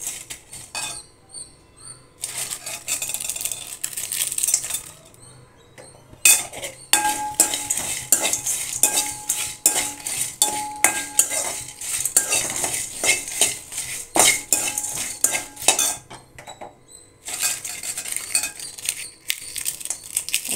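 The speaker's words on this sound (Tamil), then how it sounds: "பாத்திரம் ஹீட் ஆகிடுச்சு, இதை போட்டு லைட்டாக வறுத்துக்கணும்" Whole biryani masala spices being dry-roasted in a heated pan on low flame, stirred with a metal spoon, making repeated scraping and rattling scrapes against the pan in bursts with short quiet gaps, close and fairly loud.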